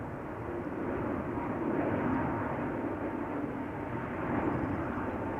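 A China Airlines airliner departs Amsterdam Schiphol for Taipei, its engines a steady, loud broadband roar that swells slightly in the middle and holds throughout.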